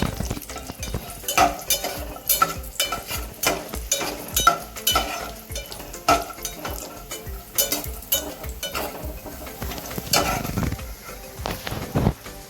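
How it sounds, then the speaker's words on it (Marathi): Grated carrot fries in ghee in a pan for carrot halwa, a soft sizzle broken by repeated scraping and stirring clinks of a spoon against the pan. "थोडेसे ब्राऊन होईपर्यंत भाजायचे आहे"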